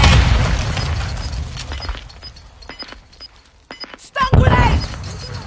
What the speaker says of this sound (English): Stun grenade! Under fire!